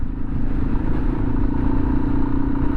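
A motorcycle cruising slowly at around 12 miles per hour on a camping trip, its engine a steady low rumble with some road clatter, close and continuous throughout.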